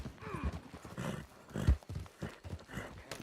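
Horse hooves clop in the video game Red Dead Redemption 2, an uneven run of muffled thuds, with a brief whinny-like sound mixed into the scattered game noise.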